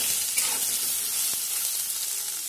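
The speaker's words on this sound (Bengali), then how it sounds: "এখন ভালো মতন সয়াবিনটাকেও আমি ভেজে নেব" Soybean chunks with salt and turmeric fry in a pan with a constant bright sizzle and an occasional faint tap of stirring, close and steady with no talk, stopping abruptly.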